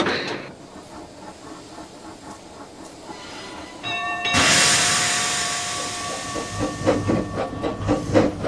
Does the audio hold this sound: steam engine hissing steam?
yes